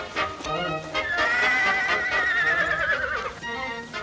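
A horse gives one long, rising and falling whinny close by, with faint hoof movement around it and no talking.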